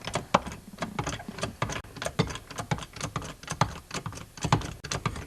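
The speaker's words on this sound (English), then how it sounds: "Now you want to crank the jack till the bead breaks." A jack is cranked to break the bead of a flat snowblower tire, making a steady run of close, quick ratcheting clicks and taps with no voices.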